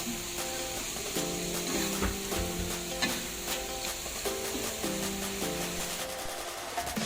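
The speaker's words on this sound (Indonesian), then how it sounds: "Lalu saya aduk dan tumis kembali sampai harum dan" Fried anchovies (teri) being stirred and sautéed again in a pan, a steady close sizzle with repeated scraping and clinking of the spatula against the pan throughout, no voices.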